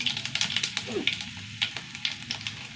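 Dried red chillies fry in hot oil with mustard seeds and fennel, giving a steady crackling sizzle broken by sharp pops, up close and without talk.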